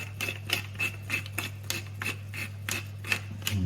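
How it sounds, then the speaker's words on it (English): Pepper being ground over risotto in a kitchen: a faint, quick run of about a dozen rhythmic crunching twists, close by, over a low steady hum. "Some salt, and then a good grinded pepper."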